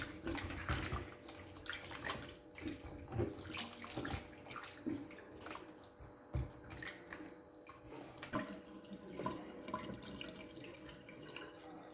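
Oxtail meat being rinsed under running water from a tap, a steady splashing flow with irregular sloshes and drips, fairly close and moderately quiet.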